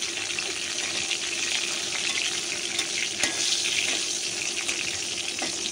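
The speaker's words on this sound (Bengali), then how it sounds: "মরিচগুলো আস্তে আস্তে ভাজা হয়ে যাক ভালো করে।" Dried red chilies fry slowly in a pan for a hilsa-tail bharta, making a soft, continuous sizzling hiss near the listener with faint scattered pops and no speech.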